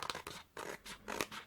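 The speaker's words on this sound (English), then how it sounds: "you can just come in with your scissors and you can just snip that off" Scissors snip off overhanging paper on a Christopher Robin album page, giving several short, close crisp cuts in quick succession with brief pauses between them, no talking.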